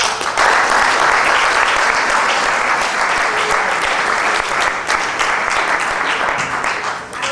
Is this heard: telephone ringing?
no